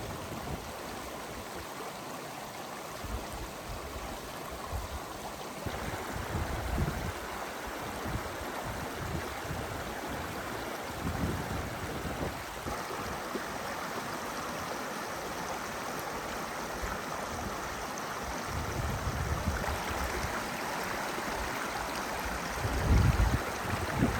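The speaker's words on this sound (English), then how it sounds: "We're here at a creek crossing." A creek on a mountain hiking trail rushes steadily at a crossing near Wasco Lake, a dense, continuous wash of flowing water close by, with a few brief splashes and bumps and no talking.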